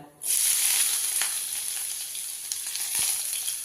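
Chopped shallots drop into hot coconut oil in a Kerala kitchen pan, already popping with mustard seeds. A sudden loud sizzle bursts up and holds as a steady, close hiss with small crackles.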